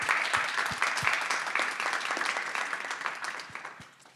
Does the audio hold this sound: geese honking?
no